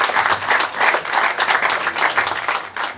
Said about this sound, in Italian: Qui va il nostro applauso.